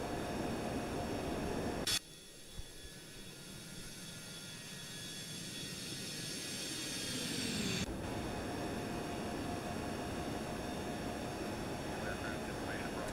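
Toliss A321neo jet climbing out after takeoff in X-Plane 12, a steady broadband engine roar that swells gradually over several seconds, heard alone without talk.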